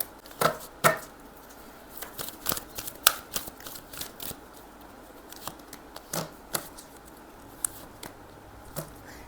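Tarot cards being shuffled and drawn during a reading, close crisp snaps and flicks of card stock in an irregular series over a soft background hiss, with no voice.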